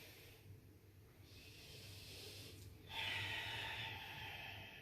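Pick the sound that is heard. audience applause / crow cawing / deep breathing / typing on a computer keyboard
deep breathing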